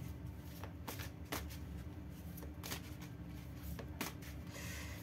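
Tarot cards are shuffled and drawn with quiet, repeated flicks and soft slaps of card on card over a low background hum, each sharp tick close but faint.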